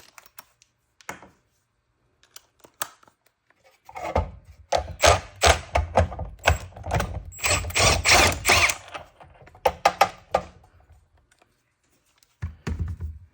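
A wrench works a 1 1/16 nut loose on a John Deere Max Emerge planter, giving quiet scattered clicks and then a dense run of rapid ratcheting clicks.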